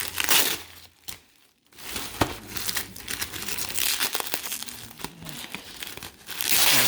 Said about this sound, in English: Look how easy the blue tape comes off.